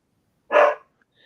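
A single loud dog bark, one short burst standing alone against a silent background.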